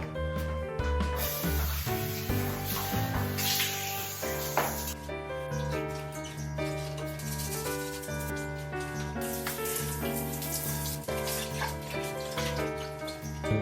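Water sprays steadily from a bidet nozzle during toilet cleaning, giving a continuous hissing rush that lasts throughout, with background music playing over it and no speech.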